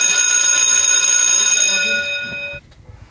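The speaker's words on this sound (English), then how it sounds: "Can you hit that bell?" A bright ringing bell is struck once to open a podcast segment, sounding loud and close and decaying over about two and a half seconds before cutting off.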